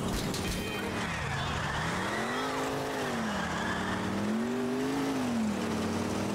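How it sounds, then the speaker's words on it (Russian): A car in Grand Theft Auto IV driving on a punctured tyre gives a continuous metallic grinding and rumbling, with wavering engine tones rising and falling across the whole stretch. "вместо радио у нас скрежет пробитого колеса"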